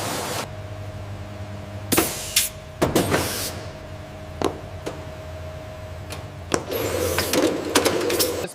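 A face wash bottle filling machine runs in a factory with a steady mechanical hum, broken by sharp clacks, hisses and bursts of rattling at irregular intervals.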